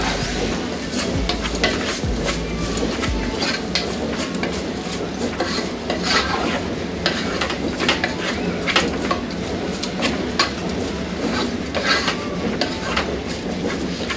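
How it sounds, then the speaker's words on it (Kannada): Grated coconut frying for dal thove, a dense continuous sizzle with a low steady rumble beneath and occasional stirring clicks, close and loud throughout. "ಒಂದು 4ರಿಂದ 5 ಸ್ಪೂನ್ ಅಷ್ಟು ತೆಂಗಿನಕಾಯಿ ತುರಿ, ಇದನ್ನು ಕೂಡ ಫ್ರೈ ಮಾಡ್ಕೊಳ್ಳೋಣ"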